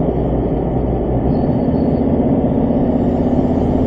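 A 2016 Ford Ranger XLT with a 3.2 litre engine climbs a hill, heard from inside the cab as a steady, loud, low engine drone with a faint whine rising over road rumble.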